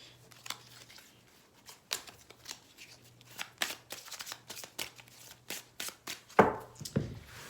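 A deck of tarot cards is shuffled by hand in a string of crisp, irregular riffles and card snaps, close and fairly quiet, ending in a louder flurry, with no talking.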